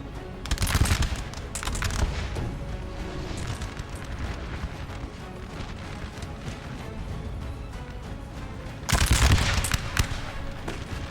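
Musket volleys firing in the video game Napoleon: Total War, a distant, rumbling battlefield din broken by two louder crackling volleys, one near the start and one near the end.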